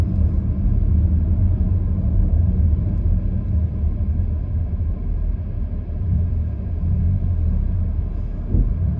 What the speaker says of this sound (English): Well, the traffic goes.